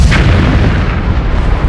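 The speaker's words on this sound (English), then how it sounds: "In a few seconds, it would have been this enormous explosion." A meteorite impact produces an enormous explosion: a loud, sustained deep rumbling roar with heavy low-end boom and crackling debris filling the whole stretch.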